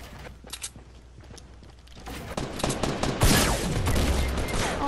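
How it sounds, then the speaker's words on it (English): Gunfire in the Fortnite video game, a scattered volley of shots that starts faint and sparse, then builds into denser, louder bursts of rapid fire that seem to come from an opposing player nearby. "Oh no, his teammate's shooting at me."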